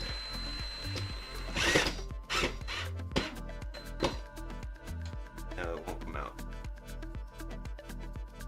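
A power tool whirs in repeated short bursts while opening a gift from Monstertech, each burst separated by brief pauses, loud and close, with mechanical rattling between runs.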